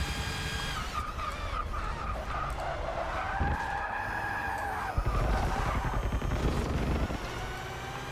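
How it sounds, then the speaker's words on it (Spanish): Car tyres skid during a race in the Forza Motorsport 6 video game, a sustained squeal rising over the steady engine roar, followed by a sharp jolt and continued racing noise. "qué pena ese derrape ahí"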